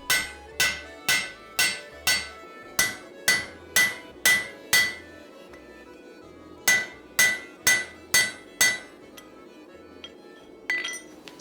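Hammer forging the eye section of a laminated steel axe, ringing metallic blows struck in quick rhythmic runs of several hits, close and clear, with pauses between the runs.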